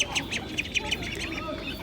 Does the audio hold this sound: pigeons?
yes